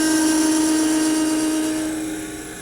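A woodturning tool plunges straight into the center of end-grain wood spinning on a lathe while turning a lidded box, giving a steady, close, high-pitched whine that eases slightly toward the end.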